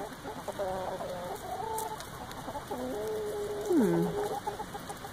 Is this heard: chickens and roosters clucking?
yes